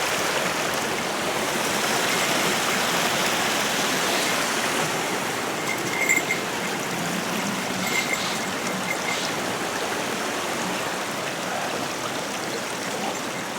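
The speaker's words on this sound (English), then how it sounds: "Water comes down the chute." A small trickling waterfall runs down a stone chute beside an eroded trail at an abandoned tea farm in Japan, giving a steady, close rushing splash with a few faint clicks partway through.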